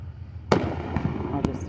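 Fireworks bursting at a Fourth of July show, with two sharp, loud pops and a softer one between, over steady crowd chatter and background murmur.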